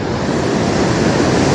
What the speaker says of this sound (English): That's the Bahubali Waterfalls,